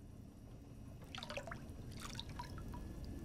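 Water running from a tap in the video game Fallout New Vegas, heard as faint splashy dribbles and drips in two short bursts over a soft, steady background.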